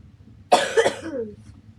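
A single close, loud cough, sharp at the start and trailing off, with near silence around it.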